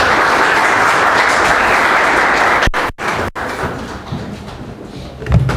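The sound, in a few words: applause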